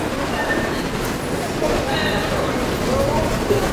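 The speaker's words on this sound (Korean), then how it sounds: "고속터미널역이에요 여기." A subway train runs through Express Bus Terminal station in Seoul, making a loud, steady rumble and roar, with faint voices mixed into the station noise.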